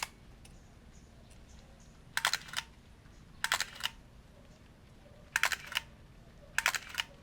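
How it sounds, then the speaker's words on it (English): A Minolta Dynax 404si film camera firing its shutter four times, each a crisp, close mechanical clack-whirr burst separated by a second or more of quiet room hiss. "So like you can see the shutter works."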